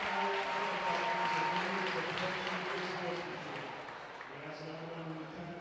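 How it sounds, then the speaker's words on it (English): A crowd at a varsity boys' high school basketball game, Medomak Valley against Oceanside, fills the gym with a steady roar of cheering and clapping, with indistinct voices mixed into the din. "listen to that crowd"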